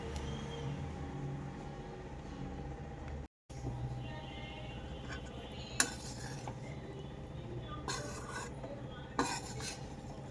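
Paneer fried rice stirred in a pan over high flame, with steady sizzling, scraping and metallic clinks of a spatula against the pan, plus a few sharper scrapes and knocks.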